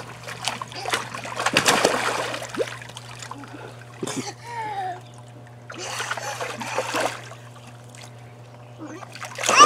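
Young child splashing in water at home after a beach trip, with a few bursts of splashing between stretches of adults talking and cheering.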